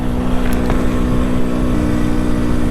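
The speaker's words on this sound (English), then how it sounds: "it's just a death sound you don't hear much of anymore, two strokes." A buzzing two-stroke MZ TS125 motorcycle engine drones steadily up close while riding, with rough wind noise over it, holding a constant pitch throughout.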